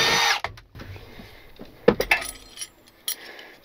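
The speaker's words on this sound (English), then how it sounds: "drilling holes to mount something" A power drill boring mounting holes in a V8 Willys, with a whirring burst at the start, then scattered clinks, knocks and handling noises of tools and parts at close range.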